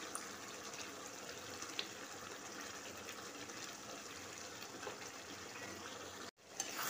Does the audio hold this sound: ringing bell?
no